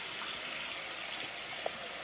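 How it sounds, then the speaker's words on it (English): Tap water runs steadily into a kitchen bowl or sink for rinsing arugula, a continuous soft gushing hiss close by with no voices over it. "I'm gonna just get some water here"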